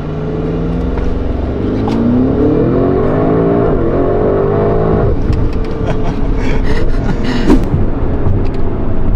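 A Porsche Cayenne Turbo GT with carbon ceramic brakes is driven hard. The loud, steady engine note rises and falls in pitch with road roar as the SUV slows sharply, with no talk.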